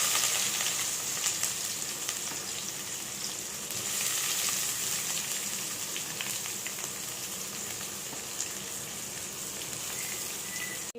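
Onions frying in groundnut oil with fennel, cinnamon and star anise give a steady, close, rain-like sizzle that holds at an even level throughout with no voices.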